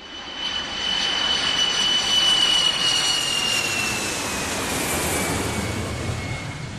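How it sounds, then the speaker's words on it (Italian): An airplane takes off, a loud, steady jet engine roar with a rising whine holding for several seconds, heard from nearby with no talking. "È partito l'aereo"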